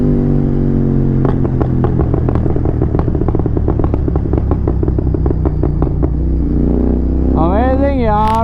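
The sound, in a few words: Royal Enfield GT 650 motorcycle exhaust popping and crackling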